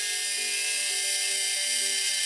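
A high-pitched electric rotary tool whines steadily while sanding 3D-printed plastic droid parts, its pitch wavering slightly throughout.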